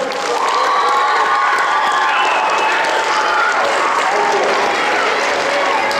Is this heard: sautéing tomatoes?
no